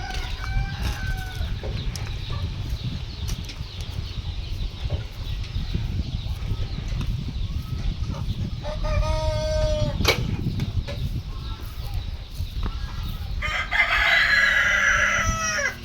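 Desi country chickens cluck over a steady farmyard din at a poultry farm in Karoli, India, with roosters crowing loudly at intervals, one long crow near the end.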